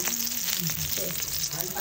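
Garlic and onion sauté in a hot pan, giving a steady close sizzle that runs through the whole moment, with a voice faintly audible underneath.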